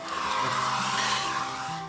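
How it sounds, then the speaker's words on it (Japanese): A hair dryer blows steadily to dry a transparent watercolor painting of flowers, a continuous close airy roar with a faint motor hum. "ちょっと一回ドライヤー"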